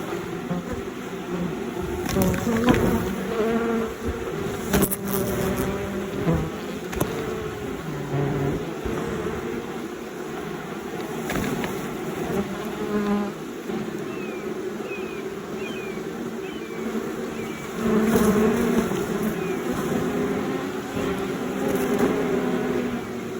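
A swarm of honeybees leaving a hive produces a dense, continuous buzzing drone that stays loud and steady throughout, close to the microphone, with brief clicks and rustles mixed in.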